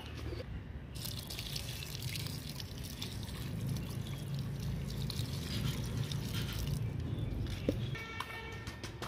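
Water is poured onto a potted bottle gourd plant in a sack on a rooftop garden, a soft steady splashing and trickling that continues through the clip with faint background noise.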